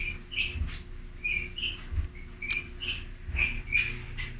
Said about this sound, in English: Well, it's just birds singing.